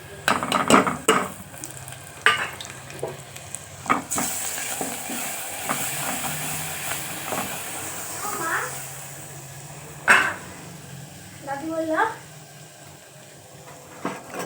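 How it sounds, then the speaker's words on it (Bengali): Spice mix frying in a pan with onions browned red, a steady sizzle broken by scraping stirs and occasional clanks of utensil on metal, with a voice talking over it at times. "আমার পেঁয়াজটা লাল হয়ে গেছে। এর মধ্যে মশলাটা অ্যাড করে দিয়ে দিচ্ছি।"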